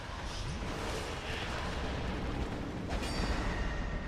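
A rumbling explosion blasts in the video game Dark Souls 2, a loud, sustained booming roar that fills the whole stretch with heavy low-end noise.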